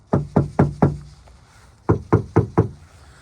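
Two quick sets of four knocks on an untreated, hollow car door, each rap close and resonant with a brief ringing tail, no voices.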